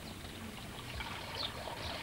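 Irrigation water running into the channels of a desert oasis garden, a soft steady trickling and gurgling flow that stays faint and continuous throughout.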